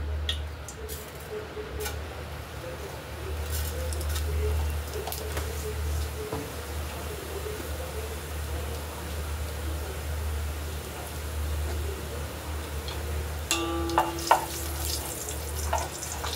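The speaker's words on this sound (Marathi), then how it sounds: "जिरं हिंगाची फोडणी करूया." Cumin and asafoetida sizzle and crackle steadily in hot oil, a soft continuous frying hiss with a few clinks near the end.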